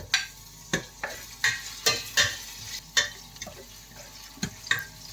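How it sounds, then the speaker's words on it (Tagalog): Garlic sautés in hot oil in a pan, with a dozen or so sharp scraping and clinking spatula strokes against the metal over a soft background sizzle. "igisa ko na yung aking bawang"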